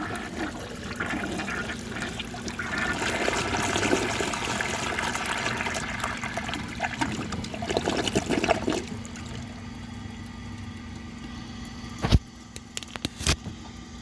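A 1957 Kilgore Atlas toilet flushes with a loud rushing wash of water for several seconds, then settles into a steady draining trickle, ending with a couple of sharp clunks.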